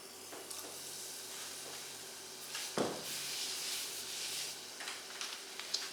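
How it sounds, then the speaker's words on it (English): Vegetable tempura crackling and hissing in four cups of hot canola oil in a Fry Daddy, a steady broadband sizzle with a sharper burst as a battered piece drops in midway. "then I'm going to drop these into the Fry Daddy"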